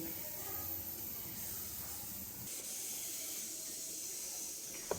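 A kitchen mixer grinder whirring as it grinds onion, coconut and whole spices into a paste, a steady loud hissing roar that shifts pitch partway through and ends with a small knock.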